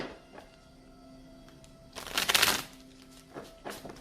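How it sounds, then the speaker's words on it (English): A single loud riffle of tarot cards being shuffled in the middle, with softer card taps before and after against quiet room tone. "Two more shuffles."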